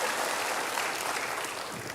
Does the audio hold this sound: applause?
yes